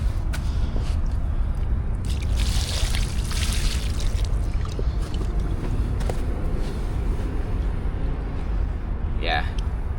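Water pours and splashes steadily while a carp caught on a tidal river is rinsed off, a continuous close wash of running water with someone talking over it.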